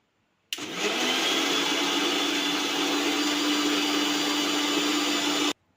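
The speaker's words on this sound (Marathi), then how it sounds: "तर आता आपण हे मिश्रण मिक्सरला दळून घेऊ" A mixer grinder churns milk cream with water to make butter, a loud continuous whirring motor hum that starts abruptly, runs steadily for about five seconds, then stops sharply.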